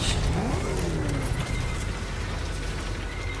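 Batmobile driving in combat mode in the Batman Arkham Knight video game, a dense roaring engine and mechanical whine with whirring gear-like sweeps, loud and continuous throughout, no talking.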